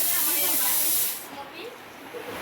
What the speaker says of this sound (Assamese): পূৰা কুকাৰৰ হুইচেল বাজি আছে